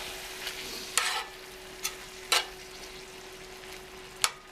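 Diced pickled jalapenos being stirred in a pan, with a few separate scraping strokes over a quiet, faint sizzle, no talking.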